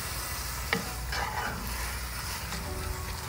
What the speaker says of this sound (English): We'll give it a quick stir and allow the wine to cook out.